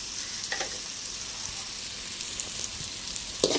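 Mutton head curry with tomato and onion sizzling steadily in a pan while it is stirred, a continuous crackling fry with a few louder scrapes near the end, no talking.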